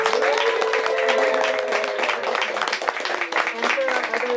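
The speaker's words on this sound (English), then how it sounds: "Let's give one more huge round of applause for Nicola." Audience applause for poet Nicola Andrews at a reading event, a dense wash of clapping with voices and cheers mixed in throughout.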